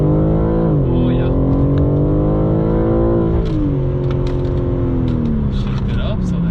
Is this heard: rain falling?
no